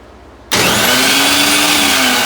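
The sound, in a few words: new wood router running, loud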